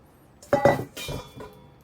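Butter being lightly folded into castella sponge batter in a mixing bowl, heard as a few brief clinking scrapes of utensil against the bowl, close and fairly soft, with no talking.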